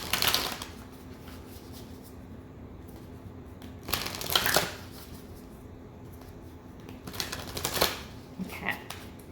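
Cards are shuffled in three brisk riffling bursts, crisp and close, separated by quieter stretches of background noise.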